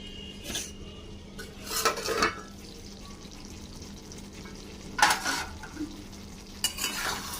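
A spoon scrapes and clinks through a potato and capsicum curry in a pan, four or five short stirring strokes separated by pauses, over a quiet background simmer.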